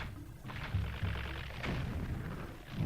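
A bombling explodes in The Legend of Zelda: Twilight Princess, a booming in-game blast with rumbling low thuds that continue over a couple of seconds, with no talk.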